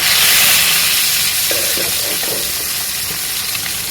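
Tilapia fish pieces fry in hot oil, a loud, dense hiss and crackle that starts strongest and settles into a steady sizzle, close and alone.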